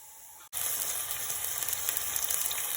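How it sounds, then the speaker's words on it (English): Onions hit hot olive oil and burst into a loud, steady sizzle after a brief quiet moment, frying continuously up close. "So I'm just going to add the onions and fry them off for a few minutes."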